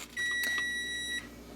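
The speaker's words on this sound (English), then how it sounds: "Everything in my kitchen's beeping." A single electronic beep from a kitchen appliance, a steady high tone lasting about a second, fairly clear against a quiet room.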